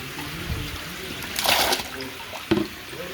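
Water holding Gulsha fish poured out of a container at a hatchery, with a short splashing gush in the middle and a second brief splash near the end.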